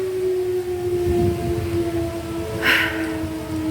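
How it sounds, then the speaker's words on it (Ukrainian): An air raid siren wails as one sustained, steady tone with faint overtones, carrying from a distance over outdoor street ambience, with a brief burst of hiss near the end. "Повітряна тривога."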